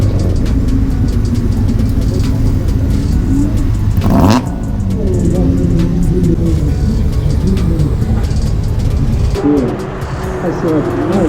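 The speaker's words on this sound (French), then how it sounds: "c'est le Ferrari qui ouvre le bal pour l'instant, une 296 GPS" Ferrari 296 GTS sports car engine revving hard and close, a loud roar that swells with sharp throttle blips and a sudden burst partway through. Background rumble and brief chirps sit underneath.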